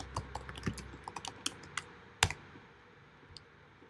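Typing text on a computer keyboard, a quick irregular run of close, crisp key clicks that thins out toward the end, with no talking.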